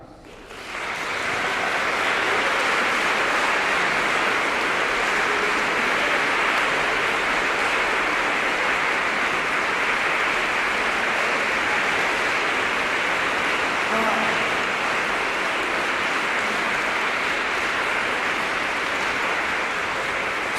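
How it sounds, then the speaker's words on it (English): Sustained audience applause for a composer fills a concert hall with a dense, steady wash of clapping that continues without a break. "I warmed them up for you. They now know how to applaud."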